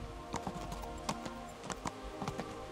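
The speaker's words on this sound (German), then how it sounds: "Wir tun jetzt einfach mal so, als ob wir ein bisschen unser Pferd bewegen möchten." A horse's hooves clip-clop at a steady walking pace in the medieval video game Kingdom Come: Deliverance, fairly quiet, with the evenly spaced hoofbeats heard alone.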